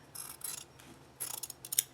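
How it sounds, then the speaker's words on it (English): Scissors snip through quilt fabric in a few quiet bursts, a short cut, a pause, then a quicker run of close, crisp snips near the end. "I can stick my scissors in this way"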